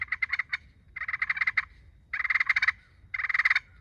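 Rolling turkey purrs on a slate pot call, four fluttering trills separated by short pauses, close and fairly soft.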